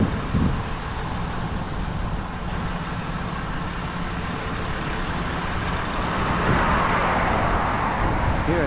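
Busy city street traffic with a fire truck cutting across, continuous loud engine rumble and roadway noise heard close by from the sidewalk, rising slightly toward the end.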